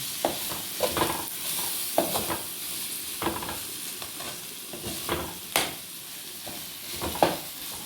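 Curry leaves dropped into a pan of softened onions for a prawn dish, sizzling close by while a spoon stirs and scrapes in repeated strokes, with no voices.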